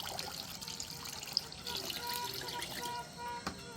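A faint trickling pour of liquid fertilizer solution, about 300 to 500 ml, into a sprayer tank, a soft continuous splash heard from close by with a voice talking briefly.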